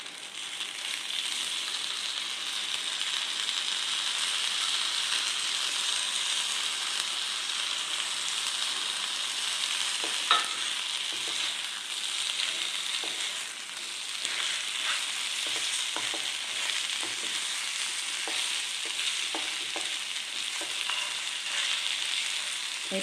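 Moong dal pitha sizzle and fry in a pan while being mixed, a steady close crackle of hot oil with scattered scraping and stirring taps throughout.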